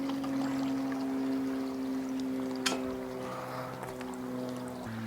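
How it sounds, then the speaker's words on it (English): About two liters of water pour into a camping stove pot, a faint liquid trickle under a steady tonal hum, with a brief bright splash partway through. "We're going to put our 2 liters of water in the pot here."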